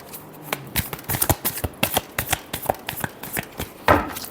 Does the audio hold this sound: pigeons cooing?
no